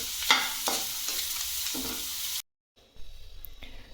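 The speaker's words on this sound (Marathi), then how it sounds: "कढई गरम झाली, त्यामध्ये आपण हे चिरून घेतलेला कारला टाकून घेऊ" Chopped bitter gourd pieces sizzle and crackle as they are stir-roasted in a hot wok, with scraping stirs on top, then a brief silence before quieter frying resumes.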